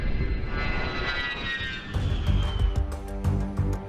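An A-10 Warthog jet passing low overhead, a loud sustained roar with a whining tone that sweeps downward as it goes by, followed by a rumbling wash.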